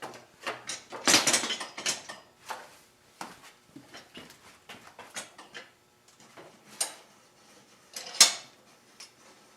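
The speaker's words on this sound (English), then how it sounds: "we can set the rim and tire on this tool and clamp it into place" A motorcycle rim and tire for a 2009 Kawasaki KLR 650 being set onto a tire-changing tool and clamped, giving scattered metallic clanks and clicks, with a couple of sharper bangs standing out.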